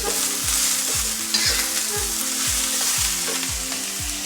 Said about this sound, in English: I'm gonna drop the cabbage and the carrot and just mix it really well